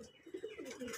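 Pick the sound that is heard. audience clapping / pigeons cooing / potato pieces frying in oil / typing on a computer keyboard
pigeons cooing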